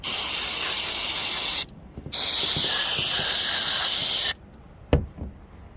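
An aerosol can of mass airflow sensor cleaner sprays in two long, loud hissing bursts, separated by a brief pause, followed by a couple of short clicks and handling noises.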